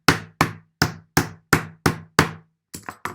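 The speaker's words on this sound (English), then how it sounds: "is just squash the caps" A hammer squashes bottle caps against a piece of timber in seven evenly spaced sharp whacks, then two quicker lighter taps, close and loud with clean silence between blows.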